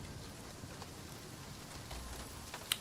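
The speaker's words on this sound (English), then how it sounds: "Because it's pouring rain out" Heavy rain pours steadily in the survival crafting video game Nightingale, a constant dense hiss of falling water with no talking.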